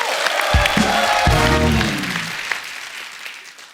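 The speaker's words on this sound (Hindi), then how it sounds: "उसके लिए जोरदार तालियां।" Studio audience on a Hindi comedy talk show bursts into applause, with loud clapping at the start that gradually fades, while a voice speaks briefly near the beginning.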